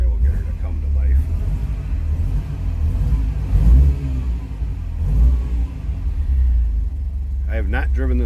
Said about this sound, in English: something about that sound of that 3-liter V8 behind your seat and the way that it whines and sounds